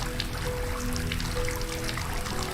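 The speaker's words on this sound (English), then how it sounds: "Oh, it's actually running. There's water here." A steady stream of running water in the horror video game Asylum pours continuously, a dense hiss over a low hum throughout.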